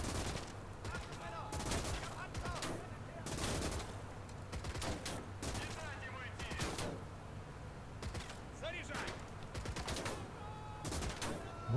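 Repeated bursts of rifle and machine-gun fire crackle through a WWII battle in the RTS game Gates of Hell, with staccato volleys recurring every second or two over a steady low rumble of engines, and a voice talking now and then.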